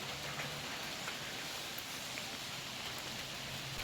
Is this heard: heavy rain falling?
yes